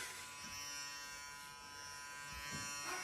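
An electric toothbrush buzzes faintly and steadily indoors for a few seconds, with soft household background noise.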